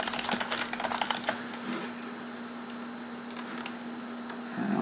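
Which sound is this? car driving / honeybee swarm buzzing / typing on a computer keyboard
typing on a computer keyboard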